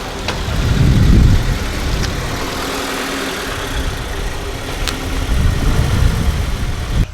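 A 2022 Subaru BRZ rolls up close and settles into a steady idle, a loud low engine rumble that swells briefly as it arrives and again near the end, with no talking.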